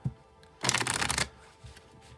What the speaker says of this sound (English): We'll shuffle till the deck feels ready.